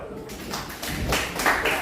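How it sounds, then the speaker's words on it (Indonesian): A school class claps hands in a short burst of applause that grows slightly louder toward the end, with a few voices mixed in. "Tepuk tangan dulu."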